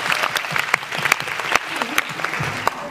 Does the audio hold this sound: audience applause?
yes